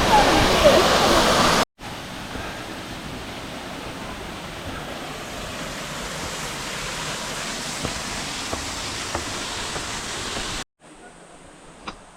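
Steady rushing roar of Sangsaeng twin waterfall on Naeyeonsan, Pohang, broad and continuous, with the sound cutting abruptly between sections of different loudness.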